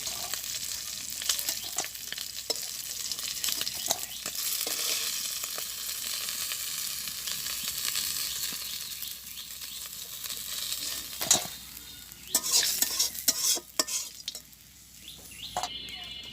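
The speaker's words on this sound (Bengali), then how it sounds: "এই মাছগুলো ভাজি হয়ে গেছে" Fish fries in mustard oil in a village kitchen pan, a loud, constant crackling sizzle close by, with a few sharper clatters and stirring bursts toward the end and no talking.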